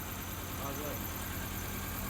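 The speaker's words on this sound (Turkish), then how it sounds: "Aracımız rölantide çalışıyor." A Fiat Tipo 1.6 MPI engine idles with a steady, continuous close-up hum, and talk is heard over it.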